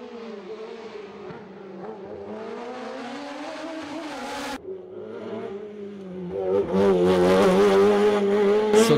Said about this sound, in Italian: il leader Uberto Bonucci su Osella PA990 BMW